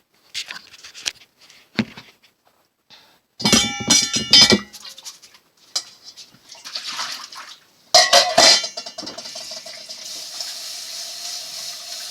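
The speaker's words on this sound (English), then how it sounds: "Now I'm going to take it back to the sink and just do a final rinse" Jasmine rice being rinsed in a bowl at a kitchen sink: intermittent bursts of running tap water, clattering of the bowl against the basin, and swishing grains, with quiet gaps between.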